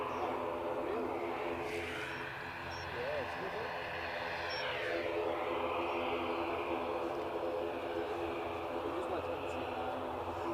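A Ryanair Boeing 737-800 at Edinburgh Airport sends a steady, broad roar of jet engine noise, with a rising and falling sweep as it passes. People chat faintly underneath.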